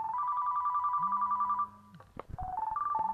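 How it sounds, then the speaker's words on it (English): A mobile phone rings in a house basement, a steady repeating electronic ringtone melody that stops partway through, followed by a few thumps and another short tonal ring pattern. "My phone is ringing and I'm in the basement."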